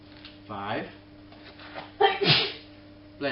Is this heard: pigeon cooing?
no